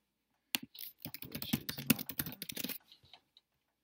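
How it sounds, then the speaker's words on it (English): A password is typed on a computer keyboard in a quick run of close, crisp keystrokes lasting about two seconds, then a couple of final taps in otherwise quiet surroundings. "we're going to type in PayPal password"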